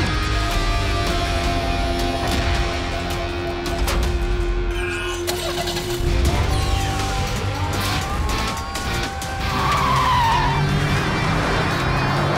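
Cartoon force cars dispatching and racing away, with revving engines, screeching tire squeals and skids, and cars whooshing past over a busy music-like backdrop, loud and continuous.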